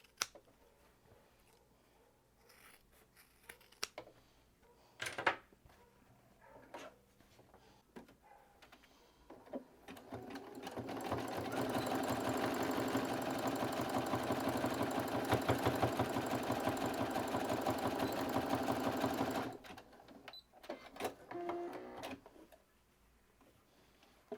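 A sewing machine runs a zigzag seam on a fabric pencil case, a steady rapid mechanical chatter lasting about ten seconds in the middle, framed by quieter clicks and handling noises before and after.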